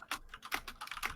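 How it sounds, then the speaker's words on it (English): Typing on a computer keyboard: a quick, irregular run of crisp key clicks, close and fairly quiet, with no voices. "Who's been typing?"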